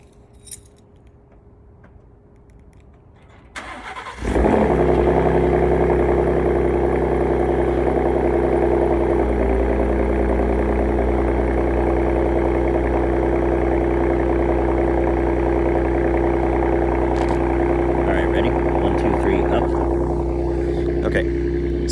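A Ford F-150 3.5 EcoBoost with a Corsa exhaust fires up on a cold start, then settles into a loud, steady, droning idle. The rumble holds close and constant, with a person talking over it.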